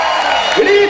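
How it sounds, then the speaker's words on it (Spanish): A church congregation shouting together during worship, a brief loud burst of mixed voices crying out at once, with one rising yell standing out near the end. "¿Cuántos pueden gritar?"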